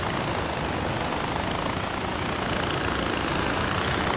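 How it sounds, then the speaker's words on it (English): A helicopter in the video game Far Cry 4 gives a steady, loud, broadband rotor-and-engine roar that holds without a break, with no talk over it. "let's get the helicopter"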